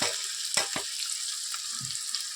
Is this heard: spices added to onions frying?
yes